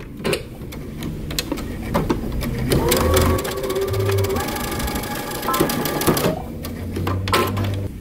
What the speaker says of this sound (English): I'm going to top stitch across the top of my pocket